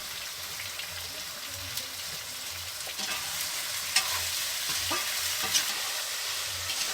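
Seasoned water buffalo meat stir-frying in a pan, a steady crackling sizzle with scattered sharper pops and scraping stirs, close and continuous with no talk.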